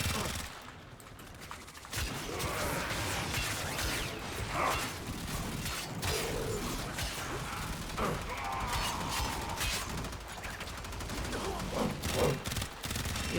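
Warframe gunfire from a light, rapid-fire pistol: a dense, continuous rattle of quick shots with mechanical clatter. It runs steadily for over ten seconds and sits under a speaking voice.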